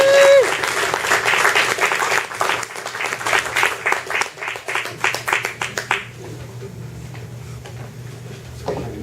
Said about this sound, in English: Big round of applause for Trevor Carolan as he comes to the stage